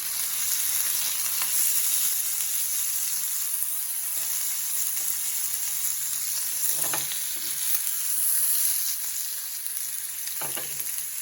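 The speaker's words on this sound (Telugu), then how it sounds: "లైట్గా గ్రిల్ చేసుకుందాం పన్నీర్ పీసెస్ని." Paneer pieces grilling in butter in a pan, a steady close sizzle and fry hiss with a few scraping stirs and light knocks, alone without voices.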